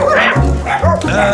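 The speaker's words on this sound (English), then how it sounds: "Remember the little dog with the long name?" A small dog barks in a few quick, close yips and bow-wows on the Costa del Sol, with a faint voice in the background.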